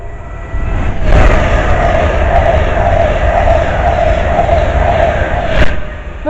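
A Class 390 Pendolino train rolling through North Wembley station on the line out of London Euston, a loud steady rumble and rail hiss held throughout, with a brief sharp clank midway.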